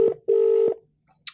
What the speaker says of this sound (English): you can see that it's dialing my mobile now